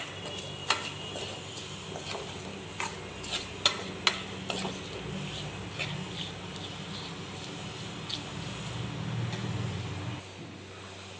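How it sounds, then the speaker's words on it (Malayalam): A spoon scrapes and clicks against a pan while chili powder is stirred for mango pickle, irregular metallic ticks over a soft, steady cooking hiss. "ഇനി നമുക്ക് പൊടിയുടെ പച്ചമണം മാറുന്നത് വരെ ഇങ്ങനെ ഇളക്കി കൊടുക്കാം"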